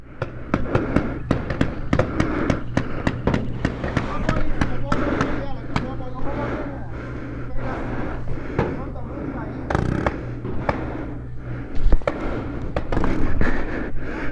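Paintball markers firing during an outdoor paintball game, a rapid irregular string of sharp pops, some in quick bursts, close and loud, mixed with movement and players shouting in the background.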